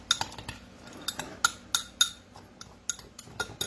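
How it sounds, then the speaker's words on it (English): A spoon stirs in a pot or bowl, giving a string of sharp metallic clinks and taps at an irregular pace, close and fairly clear with no talking. "So I like to go ahead on and stir that up."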